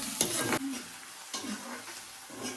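Onion, curry leaves and cumin fry together in a pan, a faint sizzle with a few quick spatula scrapes and stirs, close and fairly quiet.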